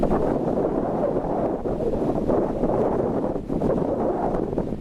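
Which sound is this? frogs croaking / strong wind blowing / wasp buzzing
strong wind blowing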